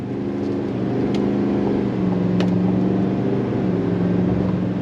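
A 2025 GMC Sierra 3500 Denali heavy-duty truck's engine drones steadily as it accelerates, a low, constant hum that shifts upward in pitch partway through, heard from inside the cab with no voices.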